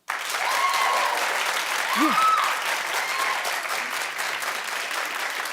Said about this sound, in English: Clap if you didn't watch.